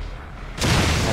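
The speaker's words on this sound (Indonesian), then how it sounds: "Ini meledak loh, meledak loh." A sudden, loud explosion in the video game The Evil Within, during the Claws of the Horde chapter, bursts in midway after a quieter stretch. It becomes a dense, sustained roar that stays close and heavy.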